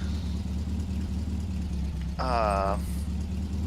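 A video game truck engine in Farming Simulator 17 idles with a low, steady rumble throughout, with a brief higher-pitched tonal whine rising over it near the end.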